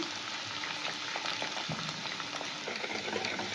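An egg frying in a pan for Bengali-style chicken pasta gives a loud, dense sizzle with faint stirring clicks and scrapes, steady throughout and with no talking.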